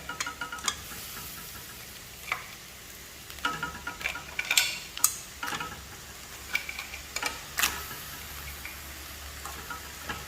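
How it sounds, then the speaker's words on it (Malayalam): Cleaned crab pieces drop one by one into a pan of masala for crab roast, giving soft sizzling with scattered clicks and knocks of shells against the pan, fairly quiet and close. "ഇനി ഇതിലേക്ക് നമ്മൾ കഴുകി വൃത്തിയാക്കി വെച്ചിരിക്കുന്ന ഞണ്ടാണ് എടുത്ത് കൊടുത്തേക്കുന്നത്"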